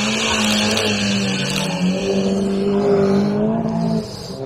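A Mini Marcos car driving past with a steady engine hum and tyre noise, its tone sliding gradually as it goes by, close and loud, easing off near the end.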